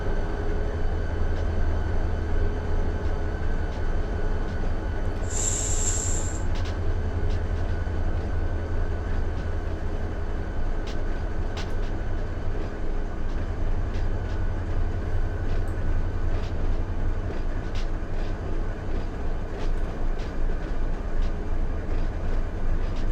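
A freight train in the Run 8 Train Simulator rolls along with a steady low rumble and clatter, one brief high squeal standing out early on; no voices.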